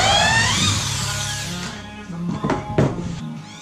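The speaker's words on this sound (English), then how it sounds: "so I drilled out that hole" Power drill boring a hole through an exterior light fixture base plate, a high whining spin that sweeps downward and fades, followed by a few short clunks and knocks, close by.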